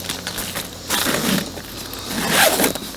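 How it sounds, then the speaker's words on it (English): A zipper is pulled shut around a Harley-Davidson motorcycle saddlebag cooler, giving two or three close, short rasping pulls over a few seconds. "Yeah, it zips up nicely."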